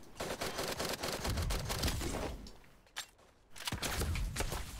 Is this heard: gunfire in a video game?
yes